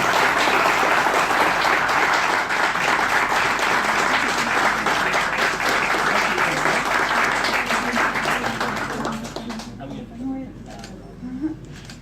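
Wedding guests applaud loudly and steadily for about nine seconds before the clapping fades out, leaving murmured voices and a few scattered sounds.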